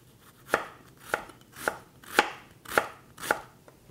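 A knife chops onion on a board in six or seven crisp, evenly spaced strokes, roughly one every half second. The taps are close and clear, with nothing else behind them.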